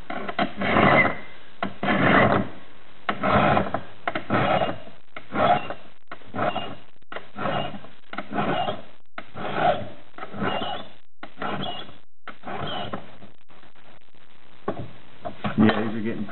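A hand file is worked over the steel points of crampons, sharpening and flattening them in repeated raspy strokes, about a dozen back-and-forth passes at a steady rhythm that slows and thins out near the end.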